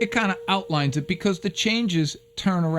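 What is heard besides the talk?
None of the usual background noises is heard.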